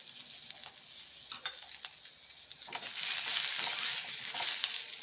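Onion and garlic fry in a pan with a soft, continuous sizzle and occasional stirring scrapes, close but fairly quiet, growing a little louder and brighter partway through.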